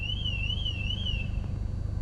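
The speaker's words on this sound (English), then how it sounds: "Oh, somebody's alarm went off." A car alarm wails somewhere outside, a steady warbling tone at moderate distance, heard from inside a car over the low, constant rumble of its engine during a delivery drive.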